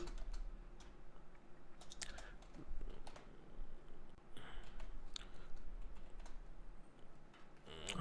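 Quiet, close computer keyboard typing, an irregular run of soft clicks and key taps over a low background hum, with no voice heard.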